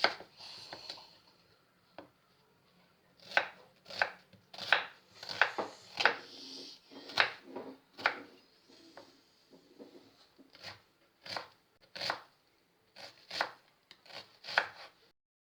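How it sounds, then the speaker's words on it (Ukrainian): A knife dices an onion rapidly on a cutting board in uneven bursts of sharp, close taps, with brief pauses between runs. "Отже, цибулю нарізаю кубиком."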